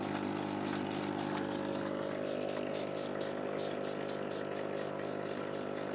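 Aquarium aerator air pump running on its high setting, used as an emergency oxygen source, giving a steady continuous motor hum with bubbling hiss throughout, close and fairly loud, no talk.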